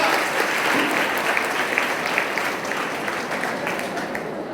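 An audience claps steadily through the whole stretch at a music festival and lecture hall, a dense, even patter of many hands with no voices over it.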